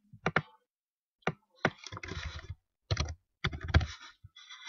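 A file name is typed on a computer keyboard in short bursts of crisp, close key clicks separated by brief pauses, fairly quiet, with no speech.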